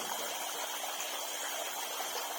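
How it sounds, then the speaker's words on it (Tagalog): Water pouring steadily into a catfish fry tank, a constant close rushing and trickling flow with no pauses. "pinapalakasan ko po yung tubig na pumapasok sa ating tank"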